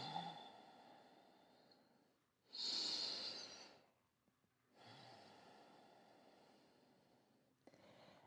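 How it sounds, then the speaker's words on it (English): Slow nasal breathing during a yoga practice, close and soft: a long exhale, a sharper rushing inhale, then another long exhale, with no talking. "I'd like you to just take 2 rounds of that nasal breathing"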